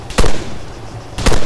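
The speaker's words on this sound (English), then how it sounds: "Taking fire!" Loud, close gunshots in the military shooter Arma III, two sharp reports about a second apart with a rough noisy background between them.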